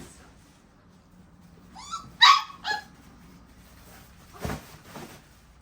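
A few short puppy yelps and whimpers, high and thin, scattered across a quiet background, followed by a couple of softer broadband rustles.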